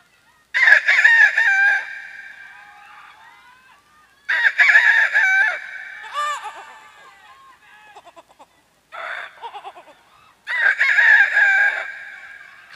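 A performer imitates a rooster crowing several times on stage at a Rongali Bihu comedy show, each loud, drawn-out crow separated by short pauses.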